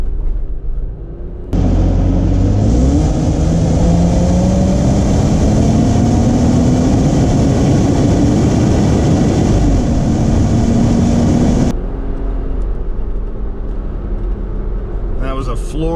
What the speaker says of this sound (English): And that was a floored full throttle from about 25 miles an hour up to almost 70 for merge